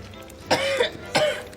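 Two short, rough coughs close by from a patient in a GP's consulting room, about half a second apart, over quiet room noise.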